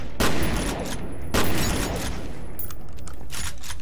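Shotgun fire in the video game F.E.A.R., two loud booming blasts about a second apart over continuous game noise and scattered mechanical clatter.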